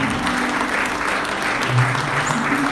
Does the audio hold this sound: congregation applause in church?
yes